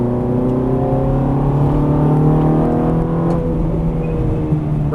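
A Ferrari 430 accelerates hard on a race track, its engine a loud, sustained roar climbing steadily in pitch up close, with no talking.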